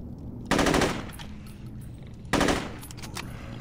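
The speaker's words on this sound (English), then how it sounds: "I was shooting the lamppost" Two loud, rapid bursts of automatic gunfire in the open-world game Saints Row 2, with a short gap of quieter ambience between them.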